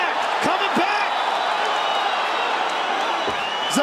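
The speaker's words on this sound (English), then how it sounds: "Brooklyn crowd getting behind these two warriors." Brooklyn crowd at a fight between Zabit Magomedsharipov and Kyle Bochniak roaring steadily in the final minute, a dense, continuous wall of cheering with a few sharp shouts and thuds rising above it.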